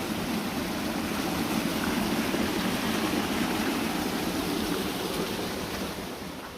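Steady rushing stream water flowing close by, a continuous broadband wash with no voices, tapering slightly at the end.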